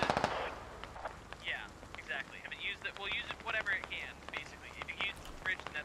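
Gunfire rattles in the military shooter game Squad, with quick rifle and machine-gun bursts crackling at middle distance under steady commentary.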